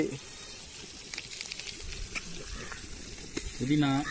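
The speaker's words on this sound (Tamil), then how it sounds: "கருவேப்பிலை எல்லாத்தையும் போட்டு வதக்கணும்" Coriander and curry leaves sautéing in oil in a pan, with a steady close sizzle and frying crackle, some stirring scrapes, and a louder hiss near the end.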